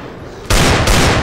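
Gunfire in Left 4 Dead 2 erupts after a quiet half second, a loud dense burst of rapid shots that briefly dips and then resumes at full force.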